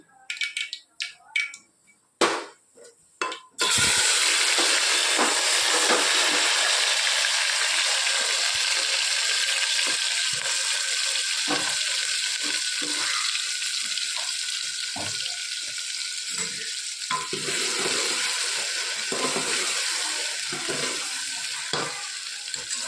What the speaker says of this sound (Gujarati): રાઈ ફૂટી જાય એટલે આપણે શાક વઘારીએ.